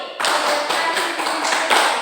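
A group of students claps in unison during a classroom clapping game, sharp bursts of hand claps in quick succession, close and fairly loud.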